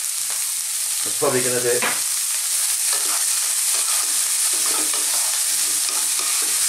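Zucchini fried rice with olives stir-fried over high heat and stirred constantly, a loud continuous sizzle with scraping stirs and a short voice speaking briefly over it.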